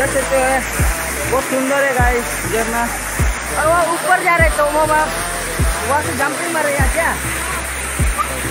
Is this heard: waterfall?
yes